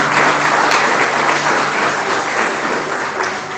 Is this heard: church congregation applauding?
yes